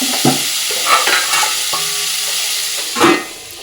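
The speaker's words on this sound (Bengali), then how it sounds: "এগুলো ভালো করে নাড়াচাড়া করে নেব" Vegetables and potatoes sizzle in a hot pan as they are stirred, with a loud frying hiss and a few scraping, tossing sounds.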